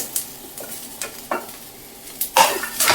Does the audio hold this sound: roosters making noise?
no